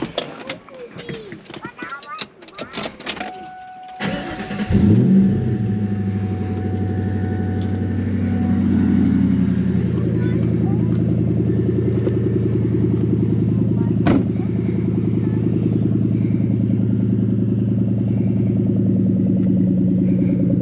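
Clicks and rustling, then the engine of a 1999 Ford Mustang SVT Cobra with Flowmaster exhaust cranks and fires into a deep, loud idle that rumbles steadily with a few revs, near and continuous.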